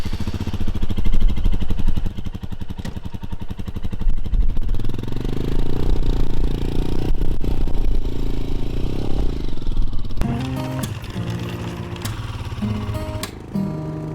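Motorcycle engine droning steadily and shifting pitch as it rides a dirt road in the Alpine National Park, loud and close, with wind buffeting and rattly clatter from the rough surface.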